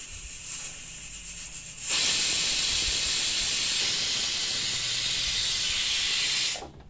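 A loud, steady hiss of steam jets out from a pressure cooker cooking basmati rice biryani, starting abruptly after a quieter stretch and cutting off near the end.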